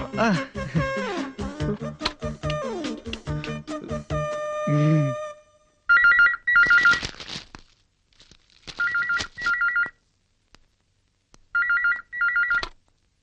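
A telephone rings in repeated trilling bursts with silent pauses between them after a call is placed, following an opening stretch of music and voices.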